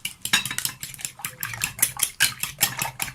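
Eggs seasoned with black pepper are beaten briskly in a bowl, the utensil clicking against the sides in a quick, even rhythm of close, sharp strokes.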